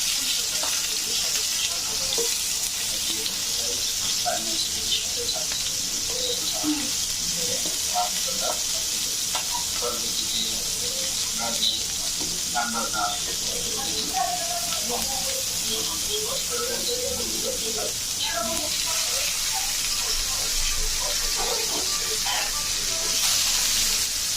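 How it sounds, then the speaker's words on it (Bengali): Sweet pumpkin pieces fry in a pan with a continuous hissing sizzle and occasional stirring clatter, while faint voices sit in the background throughout. "এখন মিষ্টি কুমড়া ভাজতেছি, মিষ্টি কুমড়া ভাজা খাবো করে।"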